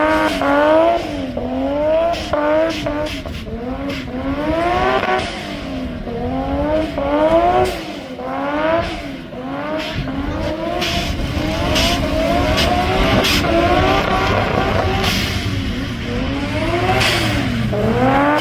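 A JDM drift car on a track revs its engine hard, the pitch repeatedly climbing and dropping in quick rhythmic cycles between first and second gear, loud and continuous with some tire noise.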